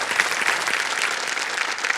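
Steady studio audience applause on a televised quiz show, a dense continuous clapping that stays loud and even for about two seconds with no voices over it.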